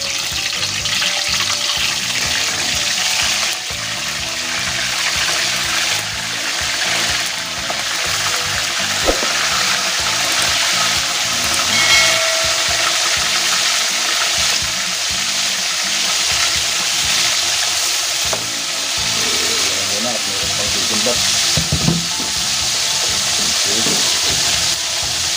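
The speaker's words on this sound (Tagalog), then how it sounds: "mainit na yung mantika at ilalagay ko na itong isda ng galunggong" Galunggong fish frying in hot oil in a pan, a loud continuous sizzle and crackle close by that holds steady for the whole stretch, with occasional clicks of a utensil.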